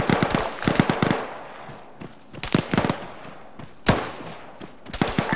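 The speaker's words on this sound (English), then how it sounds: "Any way you guys could lay down some fire for us?" Suppressive gunfire in the military video game Arma 3 during an ambush on Soviets in Afghanistan: clusters of rapid automatic bursts and single cracks, some sharp and near and others duller, in irregular volleys with brief lulls.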